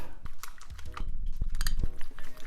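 Egg mixture with chopped scallion is beaten in a bowl for tamagoyaki, producing quick close clinks and rattling taps of chopsticks or utensil against the bowl in a short rapid burst.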